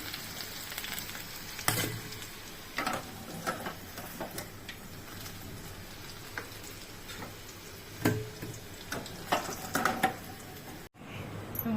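Potatoes fry in a pan for chicken kacchi biryani, a soft continuous sizzle with occasional clinks and scrapes of a spatula, fairly quiet and without talk.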